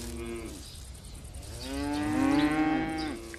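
Grazing cattle in an open pasture give a long, drawn-out moo that swells and fades, rising clearly over a soft outdoor background.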